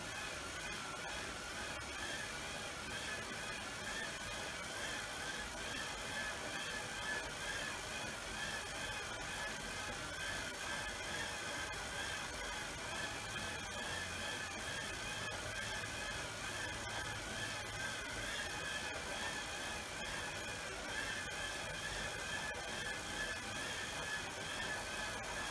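Bicycle ridden at a steady medium pace on an indoor roller trainer, a constant mechanical whir and hum with a tonal drone, even and unbroken throughout.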